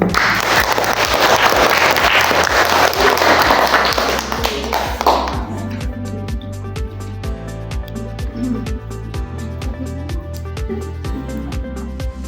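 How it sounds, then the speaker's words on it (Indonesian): Applause at a university undergraduate thesis defense ceremony: a dense burst of clapping for about five seconds, then thinning to sparse, evenly spaced claps over a low steady hum. "Beri tepuk tangan"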